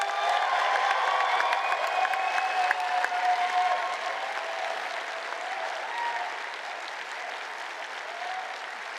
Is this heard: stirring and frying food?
no